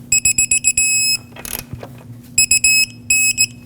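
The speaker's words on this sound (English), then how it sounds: "Let's tighten it up and torque this to 64 foot-pounds." A torque wrench tightens a control arm mounting nut on a Lexus IS250, sounding as quick bursts of shrill electronic beeps mixed with ratcheting clicks, loud and close, with a short pause of rustling in the middle.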